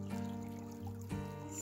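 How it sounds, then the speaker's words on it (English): Creek on a forested property in winter, draining toward a tributary beside a fish hatchery, trickles and gurgles steadily and close, with no voices over it. "this is the creek that drains down into the tributary further down"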